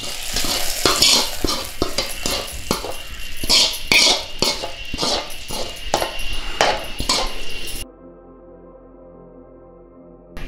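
A hot oil tempering with dry red chillies is tipped into lemon leaf tambuli, giving a loud crackling sizzle with repeated stirring scrapes and clinks against the pot, then abruptly falling quiet near the end.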